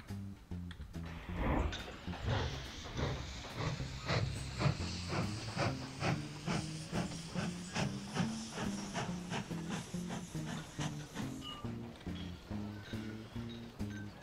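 A GS-2 steam locomotive in the Mashinky game chuffs in a steady rhythm with a constant hiss of steam, its beats rising in pitch and speed as it pulls away, heard close and continuous.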